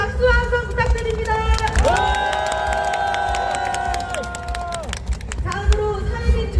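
A large crowd at an outdoor political rally claps and cheers, with a sustained chanted or sung group tone rising in the middle, surrounded by shouts and hubbub.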